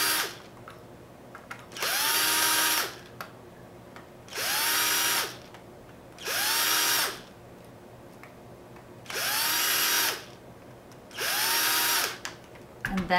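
Power screwdriver driving screws to close up a Nintendo NES controller, five separate whirring bursts of a couple of seconds each, close and loud, with brief quiet pauses between them.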